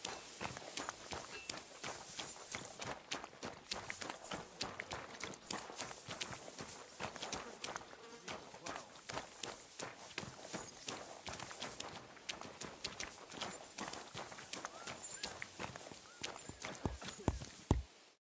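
Rapid, rhythmic clip-clop of horse hooves in the video game Kingdom Come: Deliverance II, steady and close as the animal trots along without pause, ending abruptly.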